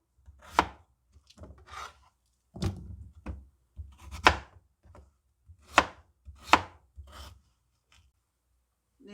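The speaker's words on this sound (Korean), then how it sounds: "요 감자는 예 4등분 정도 해주시거나 아니면 좀 빨리 이렇게 삶아지게 좀 잘게 썰어주세요" Potatoes being chopped into small pieces with a knife on a cutting board, a series of about nine sharp, close knife strikes in an uneven rhythm, with no voices.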